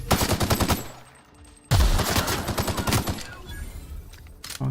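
Rapid automatic gunfire from the video game The Outer Worlds comes in loud, close bursts, stops for a brief lull, then resumes with a sharp blast and further fast volleys.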